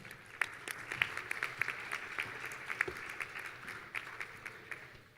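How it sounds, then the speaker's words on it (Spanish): A modest audience at a panel on constitutional reforms applauds, with distinct individual claps stacking into a fairly quiet, uneven round of clapping. "Un fuerte aplauso, por favor."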